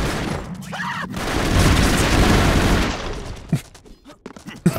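A video game minigun roars in a sustained, loud whirring volley for about three seconds, then drops away into a few scattered sharp thumps and bangs.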